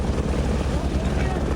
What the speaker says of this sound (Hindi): पहला हेलीकॉप्टर अभी यहाँ से पकड़ रहे हैं, दूसरा फाटा से पकड़ेंगे